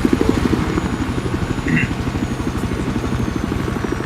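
Helicopter in the video game Battlefield 4 flies with a steady, rhythmic rotor chop and engine drone, close and sustained throughout, with a brief extra tone partway through.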